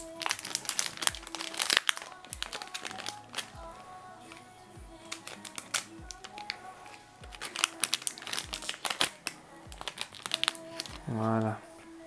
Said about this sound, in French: C'est pas des boosters évidents à ouvrir